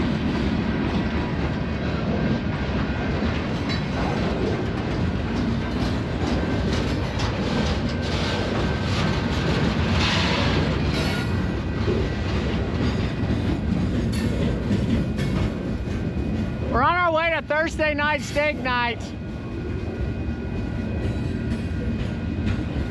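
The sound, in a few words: train passing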